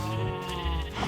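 A single drawn-out sheep bleat, loud and close, lasting about a second.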